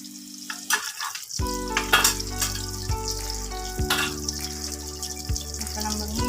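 Fish curry bubbles and sizzles in a pan, with a steady frying crackle and a few soft stirring knocks and clinks, heard close and alone without any talk.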